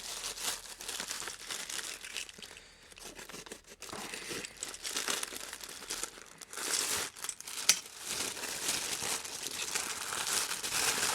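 Parcel packaging crinkles and tears as it is carefully cut open, a close, continuous rustling of plastic and paper with sharper ripping moments, no talking.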